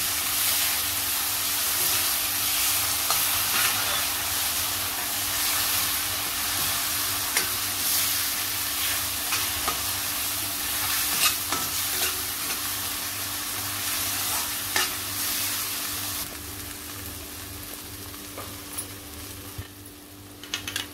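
Masala and ground paste sizzle and fry in a pan for Indian matar paneer while being stirred, a steady loud hiss with scraping stirs and occasional clicks, no talk.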